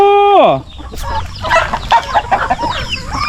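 Chickens on a backyard farm cluck and squawk close by in a quick, busy burst, preceded by a short rising crow-like call.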